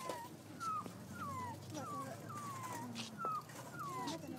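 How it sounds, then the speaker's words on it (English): In the video game Nobody The Turnaround, a dog whimpers over and over in short, high, falling whines, about one every half second, fairly close against a quiet background hum. "A cute dog. Pet the dog."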